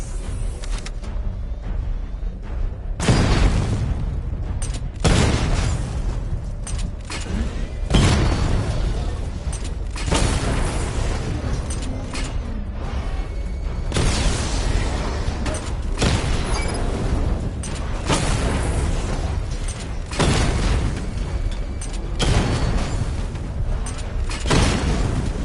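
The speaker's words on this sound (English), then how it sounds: "Charge the missile barrage to level 2 to destroy up to 4 targets at once." Repeated deep booming blasts from a missile barrage in a Batman video game, loud and continuous with several heavy impacts rolling over rumbling low-end noise, no talk.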